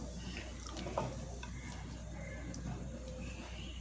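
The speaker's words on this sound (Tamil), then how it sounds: "இப்போ மசாலா வறுத்த சட்டியிலே அரைச்ச பேஸ்ட்டை நம்ம போடலாம்." Ground spice paste for a Kanyakumari-style spicy fish curry masala sizzles and is stirred in the pan used to roast the masala, a quiet, steady frying hiss with soft scraping.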